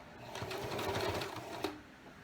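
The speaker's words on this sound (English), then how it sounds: "So I'm going to sew in reverse first," A sewing machine stitching in reverse on a tote bag runs with a steady rapid mechanical whir and needle clatter for about a second and a half, then slows and stops with a faint click.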